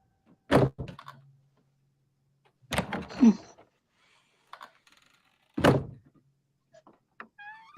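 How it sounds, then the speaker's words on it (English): A closet door closes with a few separate, fairly loud thuds spaced seconds apart in an otherwise quiet room, with faint creaks and light rustling between them and no talking. "Can you close the closet door?"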